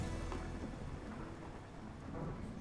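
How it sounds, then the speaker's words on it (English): Rain and thunder in the video game RimWorld: a dense, continuous wash of rainfall with a low rumbling undertone, steady and loud throughout with no voices. "There we go, now it's raining."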